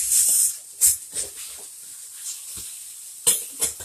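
Sausage sizzling and browning in a pan for biscuits and sausage gravy, a steady close frying hiss broken by a few sharp stirring clatters, with no voices.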